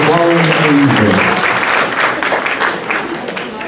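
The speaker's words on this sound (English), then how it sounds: "round of applause for Shelly Jaggers" Audience applause for a contestant at a 2017 costume contest, loud dense clapping that opens over a voice, then settles into steady applause and fades slightly toward the end.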